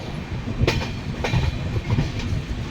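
A train at Kanpur Central railway station rumbles steadily at close range, with a few sharp wheel clanks over the low rolling noise and no talk.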